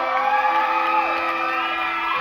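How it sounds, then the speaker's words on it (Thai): A crowd cheers and whoops loudly and continuously at a beauty pageant final, the high excited voices blending into a dense wall of sound. "ขอเสียงปรบมือให้กับไอรีและหนูดีด้วยนะครับ"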